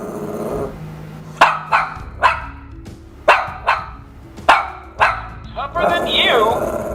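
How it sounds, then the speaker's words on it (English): A dog barks close and loud, a series of about seven sharp, evenly spaced barks with a slight growl between them, ending in a longer whining yelp. "It analyzes barking and translates each bark"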